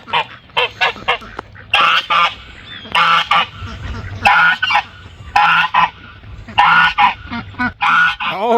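Loud, close goose honks come in repeated bursts, several birds calling in a rough rhythm with short pauses between, on a homestead.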